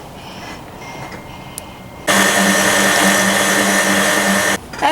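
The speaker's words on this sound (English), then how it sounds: "Put your dry ingredients with your wet ingredients and mix." A handheld electric mixer whirs loudly and steadily as it mixes dry and wet ingredients into blueberry baking batter in a mixing bowl, starting abruptly after quiet handling noises and cutting off near the end.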